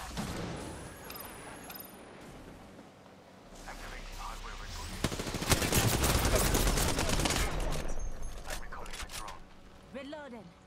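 Gunfire in Apex Legends, dense bursts of rapid automatic shots building in the middle and trailing off, with game effects and a voice speaking.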